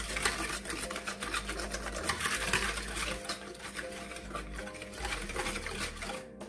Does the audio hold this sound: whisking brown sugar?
yes